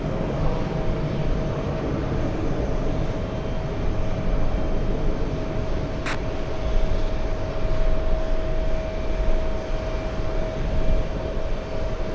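Steady, broad roar of a Delta jet taxiing at an airport after arriving from San Francisco, heard from a distance as a continuous engine rumble with a faint tonal whine.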